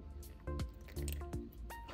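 A little water poured into a pot of canned cream of chicken soup to rinse out the can, giving a few close drips and splashy pours in a quiet kitchen with no voices.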